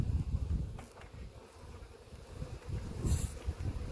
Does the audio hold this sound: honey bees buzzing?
yes